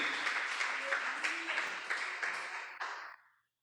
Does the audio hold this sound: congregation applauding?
yes